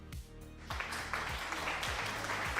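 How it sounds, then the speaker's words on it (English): A short applause sound effect plays during a game stream, a steady wash of clapping with a few low thumps underneath, moderately loud and with no talking over it. "Yeah, applause."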